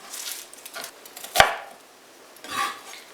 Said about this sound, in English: we're just going to slice up our onion